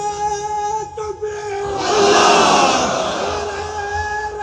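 A large crowd at an outdoor Islamic sermon gathering in Hathazari roars 'Allahu Akbar' in unison in answer to a takbir call, a loud massed shout swelling mid-clip over a sustained tone and a single voice.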